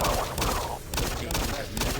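Rapid bursts of gunfire in the video game Doom 3 crackle in quick volleys, loud and chaotic, with brief pauses between the bursts.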